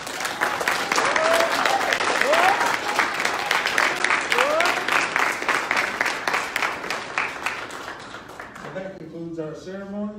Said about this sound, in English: so you can give yourselves a round of applause